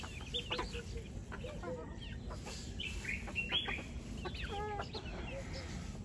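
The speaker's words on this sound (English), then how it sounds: "Chickens are feeding." Chickens cluck and chirp while feeding outdoors in Liberia, several birds calling in short, scattered bursts over a soft background hum, fairly close.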